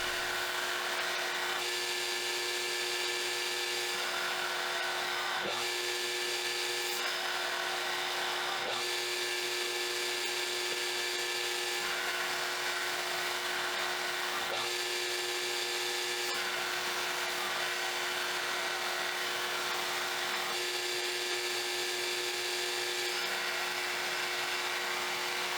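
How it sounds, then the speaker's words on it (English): A hand-forged timber framing chisel edge being ground on a powered grinder, a steady high whining hum that repeatedly swells and eases as the steel is pressed on and lifted off, no voices. "At this point I'm grinding the edge of the chisel."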